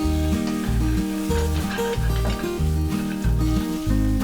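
Mushrooms fry in oil in a hot pan, giving a continuous loud sizzle, with a repeating rhythmic background music pattern running under it.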